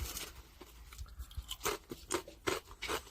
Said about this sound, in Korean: 적색 고구마 칩 바삭바삭해요